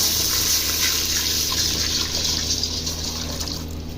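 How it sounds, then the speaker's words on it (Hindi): Yakhni stock, a water-based broth, is poured steadily into a pot of rice for mandi, making a continuous, fairly loud rush of liquid that fills the whole stretch with no voices. "ये जी अब हम इसमें अपना पानी ऐड करने लगे हैं, यखनी वाला जो हमने आपको दिखाया था।"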